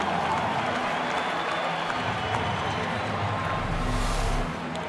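Baseball stadium crowd at a Tigers home game against Texas rises into steady cheering and applause after a double, a broad continuous roar that holds throughout before easing slightly at the end.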